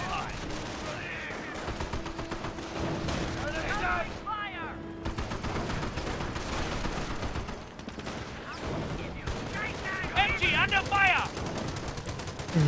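Nebelwerfer rocket artillery firing in Company of Heroes, a dense barrage of launches and explosions mixed with battlefield gunfire, loud and continuous, with a rising whistle near the middle and another burst of shrieking rockets near the end.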